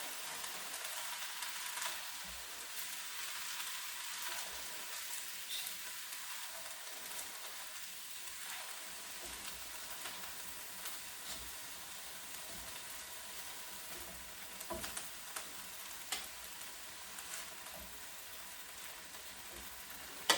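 Cabbage and beef stir-fry sizzling steadily in a pan, a soft, even hiss with faint stirring scrapes and no voices.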